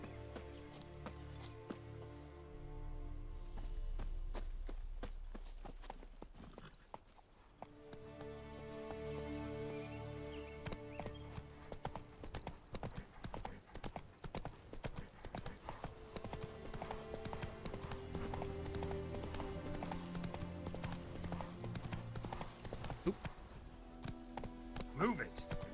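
Roach, the horse from Witcher 3, gallops in a steady clip-clop rhythm of hooves, close and continuous, layered under game music and bursts of talk.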